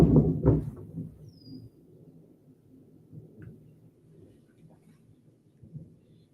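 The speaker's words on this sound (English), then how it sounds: "it's thundering like crazy" Loud thunder rolling outdoors during a Michigan thunderstorm, a sharp close crack at the start fading into a long low rumble with faint rain behind it.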